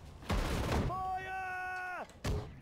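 Heavy anti-tank rifle shots in the WWII strategy game Sudden Strike 4, two loud blasts around a high whining tonal sound that falls off sharply, then a third sharp report at the end.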